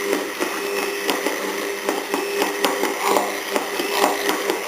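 A kitchen blender whirs steadily while emulsifying homemade aioli as oil is added a little at a time, a continuous close motor drone broken by small repeated clatters and bumps.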